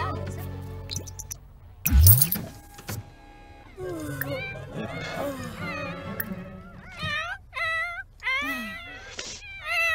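A cartoonish cat meowing in the Life in Dolls video game, a run of short rising and falling meows in the second half, preceded by a sharp thud and mechanical whirring, with quiet background music.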